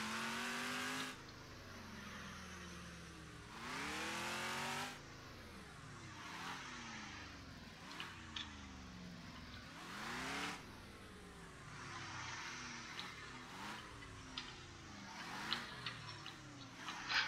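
A racing car engine in a game revs and accelerates repeatedly, rising pitch sweeps with brief tire squeals, no talking, fairly quiet overall.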